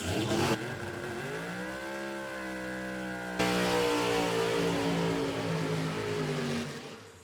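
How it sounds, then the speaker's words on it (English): A supercharged Factory X drag race car driven by Greg Stanfield idles and revs on the starting line. Its loud engine drone steps up sharply partway through and holds at high revs, with no talk over it. "you guys are going to love the sound of the sweet supercharger on the starting line"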